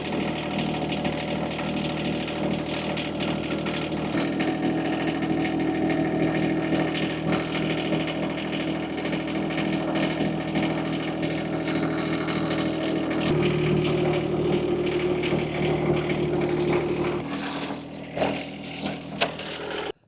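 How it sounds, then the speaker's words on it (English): A tractor engine runs steadily at close range while dragging a solar panel frame, a continuous droning rumble with slight shifts in pitch, ending in a few louder clunks. "now it's time to try to move this thing with the tractor"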